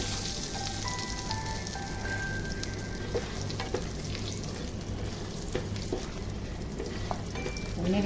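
Cinnamon, cardamom and cloves frying in oil for a prawn malai curry, a continuous bubbling sizzle with occasional light clicks, steady and fairly close, without speech.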